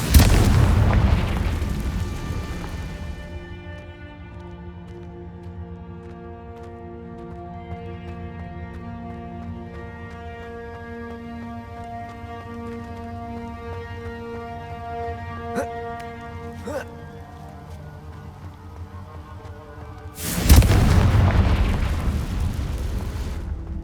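Confringo spell explosions in Hogwarts Legacy, a loud booming blast at the start and another sharp burst near the end, separated by a sustained tonal musical bed with faint clicks in between.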